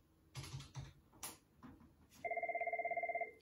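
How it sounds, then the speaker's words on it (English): A Cisco 7941 IP phone hooked up to FreePBX rings with a steady, rapid electronic trill near the end. Before it, scattered clicks and taps come from handling the desk. "so I'm going to go ahead and call the phone"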